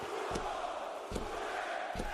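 A wrestling arena crowd roars in a sustained, distant wash of cheering, with a few duller thumps breaking through at regular intervals.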